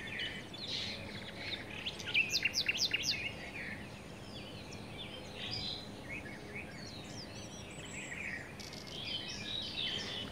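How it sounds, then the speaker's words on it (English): Several birds chirp and trill in a forest, with a dense burst of quick tweets early on and lighter calls later. Insects buzz softly underneath, and the song sits at moderate distance. "the beautiful birds whose songs were the very fabric of the forest"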